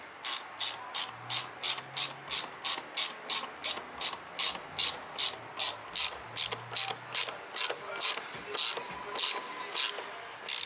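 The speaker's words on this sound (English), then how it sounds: "So we get our 7mm socket and tied this one up." A ratchet with a 7mm socket tightens an air filter bolt on a 2011 Opel Corsa D 1.3 CDTI: a fast run of about twenty even, crisp clicks, close by and loud, continuing steadily throughout.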